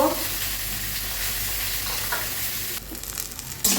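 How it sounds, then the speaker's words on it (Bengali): Boiled taro pieces fry in a pan, a dense, continuous sizzle, loud and close, that dips briefly near the end and then resumes, with no voices. "ছড়াগুলি ভেজে নিচ্ছি বন্ধুরা"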